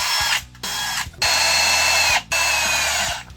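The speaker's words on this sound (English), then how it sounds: "first we need to drill some pilot holes." A power drill whines loudly in three bursts while drilling pilot holes in wooden boards, each running for about a second, with brief pauses between them.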